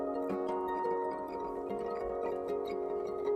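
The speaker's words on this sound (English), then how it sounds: "you end up having this crazy stereo dribble effect. It feels like raindrops falling." Layered acoustic and electric guitar harmonics form a dense stereo shimmer, with many bright plucked pings scattered like raindrops over a sustained tonal bed; no speech.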